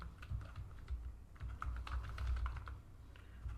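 Switch configuration commands are typed on a computer keyboard, a quiet close run of uneven key clicks and taps, bunched in short bursts with brief pauses.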